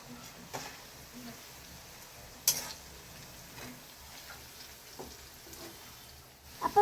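French fries sizzling and frying in a hot pan, a soft crackle with occasional stirring clatters and utensil taps against the pan, a faint background voice at times.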